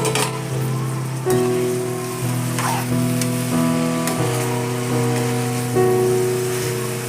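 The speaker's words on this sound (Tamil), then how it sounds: "மூடி போட்டு ஒரு 5 நிமிஷம் சிம்மில் வேக விடுவோம்" Brinjal curry simmering in a covered pan on low heat, a soft continuous crackling sizzle like light rain, running beneath background music.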